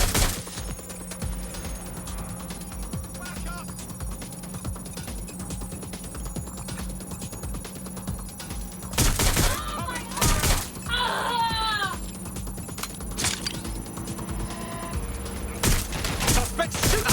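Gunfire in a Watch Dogs: Legion police shootout: rapid bursts of automatic shots with several loud close cracks, ringing alarm-like tones and voices calling out amid the fight.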